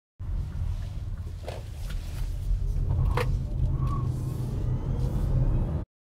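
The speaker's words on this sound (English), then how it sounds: "What you heard there was wheel spin from an electric compact crossover." A Hyundai Kona Electric compact crossover accelerates hard with its wheels spinning, giving a steady rumbling road and tyre roar with faint whining tones, close and continuous for about six seconds.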